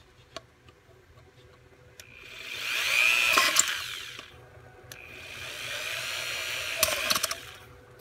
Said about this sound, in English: We take our drill.